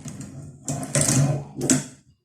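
A sewing machine runs in short stitching bursts, two or three close mechanical whirring pulses with brief pauses between them, fairly quiet and with no talking.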